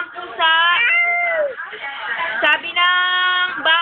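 A voice imitates a cat, giving a long drawn-out meow and then a second higher meow, close and loud, with brief speech sounds between them.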